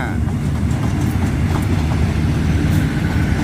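An empty passenger train hauled by a GEA locomotive rolls past close by, a loud continuous rumble with rhythmic wheel clatter, and a voice talks over it.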